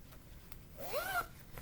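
A zipper on a vinyl-front project bag is pulled once in a short, quiet, close zip lasting under half a second, with soft rustling around it.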